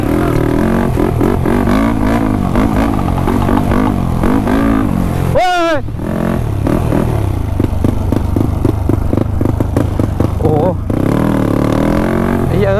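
A 125cc motorcycle revving hard on a muddy forest trail in the rain: uneven, loud engine bursts with clattering under excited shouting from riders. There is a brief pause in the middle, then the revving resumes.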